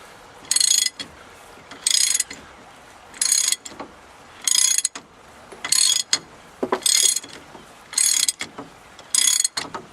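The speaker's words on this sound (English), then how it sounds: "now I am using a 3/4 inch drive ratchet extension and with an adapter that goes down to 1/2 inch" A 3/4-inch drive ratchet with an extension and a 1/2-inch adapter works a stubborn fastener while the four-wheel drive is taken out of a truck, making eight evenly spaced bursts of close mechanical clicking.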